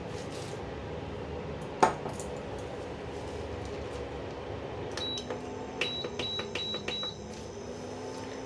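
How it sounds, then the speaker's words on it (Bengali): A kadai set down on a home stove while cooking palm-fruit sweets lands with a single sharp metallic clank, followed by steady background noise and a run of faint high electronic beeps. "কড়াইটা বসিয়ে দিলাম।"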